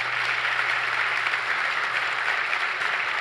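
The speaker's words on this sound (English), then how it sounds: "I just want to get one more round of applause for all the finalists and winners tonight." A large audience applauding award finalists and winners at the Pittsburgh Tech 50 awards, a dense, even wash of clapping from a sizable crowd in a hall, steady and unbroken throughout.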